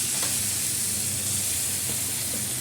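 Water splashed into a hot cooking pan gives a steady, loud sizzling hiss that runs without a break for a couple of seconds, with no talking.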